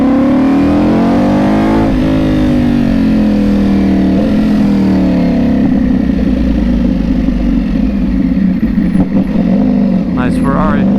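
Ducati Panigale V4 motorcycle fitted with an aftermarket exhaust, a loud, steady engine drone with rising and falling revs close by, with people talking over it.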